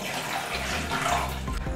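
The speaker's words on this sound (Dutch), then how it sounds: "Allereerst vullen we het waterreservoir met koud en vers water." Cold tap water pours into the water reservoir of a Moccamaster Select coffee maker, a steady near rushing splash with a deepening tone as the tank fills, no voices.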